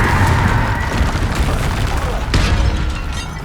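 Spell blasts and explosive booms in the Hogwarts Legacy video game during a fight with a troll, a dense run of loud bursts and rumbles with a sharp crack near the end, overlapping game sound.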